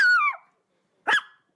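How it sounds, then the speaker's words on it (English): A Chihuahua gives two short, high-pitched yelps close by, the first a falling whine-like bark and the second a quick sharp yip, with silence between. "here comes the dog."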